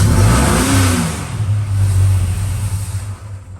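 Chrysler VH Charger engine running roughly after a start attempt, a loud close rumbling idle with a brief rev that rises and falls, then a sputtering fade as it dies.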